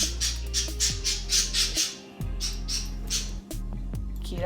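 Pet parrots squawk loudly and repeatedly in a home aviary, harsh calls arriving in a fast rhythm close by with a few brief gaps, no talking.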